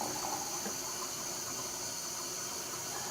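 Black-and-white film developer pours out of a 35mm developing tank in a steady, continuous liquid stream, fairly quiet and even from start to finish, with no talking.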